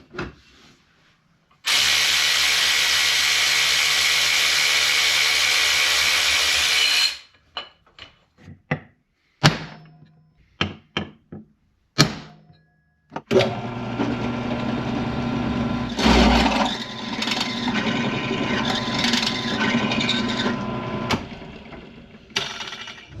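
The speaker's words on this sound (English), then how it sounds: "we went ahead and drilled the 2 holes into our adapter plate that we're making" Drill boring holes into a metal transmission adapter plate, a loud steady high whine lasting about five seconds, then clanks and handling noises and a later stretch of rougher grinding and rattling.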